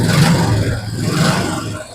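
A Royal Enfield Classic 350 BS3 motorcycle engine on its original silencer is sharply revved, surging loudly, then dropping back and rising again in a quick throttle blip, close up with no speech.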